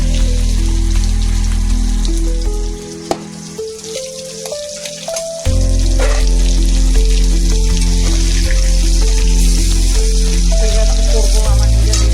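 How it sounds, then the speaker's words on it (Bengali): Fish frying in a pan makes a steady, close sizzling hiss. It dips briefly near the middle, then returns at full strength, with faint tonal sounds in the background. "তো প্রথমে মাছগুলোকে ভাজা করে নিচ্ছি"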